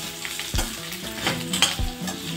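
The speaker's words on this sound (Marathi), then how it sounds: "आता आलं लसणाचा कच्चा पण जाईपर्यंत आपण थोडं त्याला परतून घेऊया" Onion sautéing with ginger-garlic paste for masala khichdi, a close, busy sizzle with two thudding stirs of the spoon against the pan over a couple of seconds.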